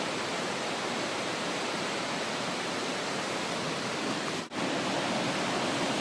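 Floodwater rushes across a farm in the aftermath of Hurricane Irene, a dense, steady broadband roar that holds at near-constant loudness throughout, with one brief dip just past the midpoint.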